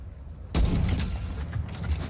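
Gunfire and grenade blasts from the video game Fortnite arrive as a sudden loud burst, followed by a dense rattle of shots and booms that runs to the end.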